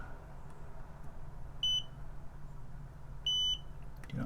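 Two steady electronic beeps from a multimeter continuity test on a Mean Well RT-65B power supply, each about a quarter second long and spaced nearly two seconds apart, over a quiet low hum with a brief clunk at the end.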